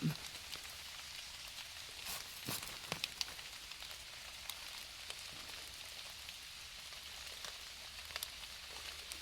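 Light rain pattering steadily on a surface, with scattered sharper drops over a soft, continuous hiss.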